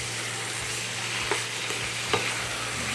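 Chunks of meat browning in a hot pan, a continuous soft sizzle and crackle with a couple of brief stirring scrapes, close and alone with no talk.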